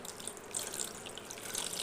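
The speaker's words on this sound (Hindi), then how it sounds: "और अब ये नहा रहे हैं ठंडे ठंडे पानी से" Cold water trickles and splashes as it is poured over a small Laddu Gopal idol sitting in a little bathtub during a daily home puja, a soft, steady close-up pouring sound with no talking.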